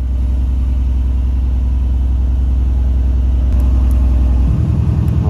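A car engine rumbles steadily up close with a deep low drone, a brief shift near the end as the pitch drops, with no talk over it.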